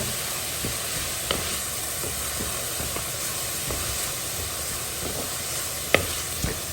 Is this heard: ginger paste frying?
yes